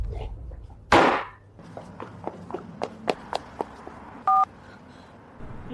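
A telephone number being dialed, with a sharp noise burst followed by a series of short separate tap-like clicks and a brief dual-tone beep near the end, fairly faint and without voices.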